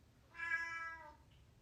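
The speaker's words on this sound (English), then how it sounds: "And then I have these cats right here that require" A house cat gives a single clear, drawn-out meow close by, rising and then falling, against a quiet room with a faint low hum.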